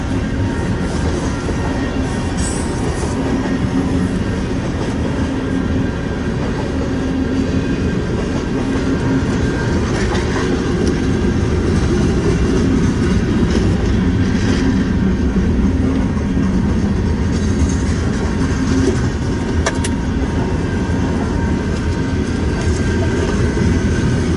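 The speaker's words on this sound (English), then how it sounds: "Union Pacific gondola with the M&P reporting mark." A Union Pacific freight train with gondola cars rolls past up close, a loud, steady rumble and rattle of wheels on rails that holds for the whole stretch, with no voices.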